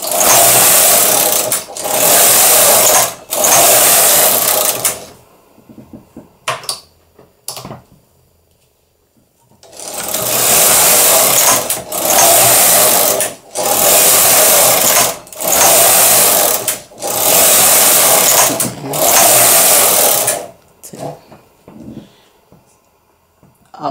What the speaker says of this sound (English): we're going to knit some rows and end with the carriage on the left